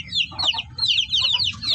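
Two-week-old black Shamo Aseel chicks peep in quick, high overlapping chirps close by, while their native mother hen clucks softly underneath.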